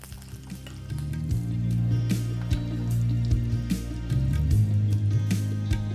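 Chana dal, two dried red chillies and curry leaves sizzle in hot tempering oil for a chutney, making a loud, steady crackle with scattered pops and spits, close up and with no talking.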